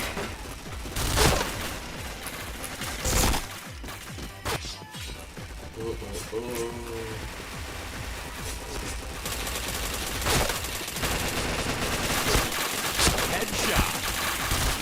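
Gunfire rings out in a shooter video game: sharp single shots and short bursts, some loud and close, others fainter, with stretches of quieter background between the volleys.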